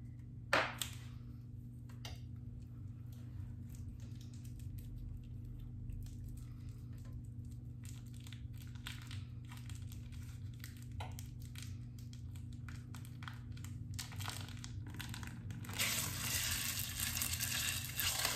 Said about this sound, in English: I'm just gonna go ahead and get this broken up so that it gets a good sear on that side